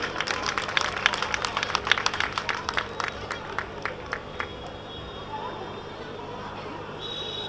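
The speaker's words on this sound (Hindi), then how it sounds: "तालियां आपकी अपेक्षित है। एक बार जोरदार तालियां।" Scattered claps from an audience at a Beti Bachao Beti Padhao fair in Farrukhabad sound sharp and uneven, thinning out after a few seconds into a quiet hum with faint crowd murmur.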